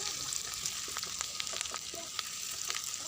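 Onions fry in hot oil in a pan and are stirred, producing a steady crackling sizzle dotted with quick sharp pops and scraping clicks, moderately loud and close.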